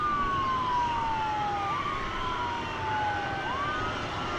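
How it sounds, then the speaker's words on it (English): An ambulance siren wails near DFW Airport, its tone sliding slowly down and then jumping back up in repeated cycles, moderately distant over a steady wash of wind and traffic noise. "Oh, we got more ambulances going."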